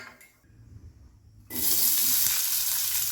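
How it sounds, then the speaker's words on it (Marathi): Onion frying in a pan for misal masala sizzles up suddenly and loudly after a quiet start, then holds a bright, steady hiss. "आता आपण हा कांदा छान लालसर भाजून घेणार आहोत मसाल्यासाठी"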